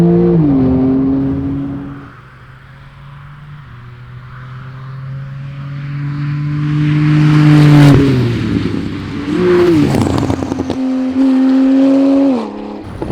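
A tuned Porsche 911 Turbo S of the 991 generation, about 630 hp, drives through a series of curves, its engine note rising and falling loud and close as it accelerates, lifts and shifts between bends.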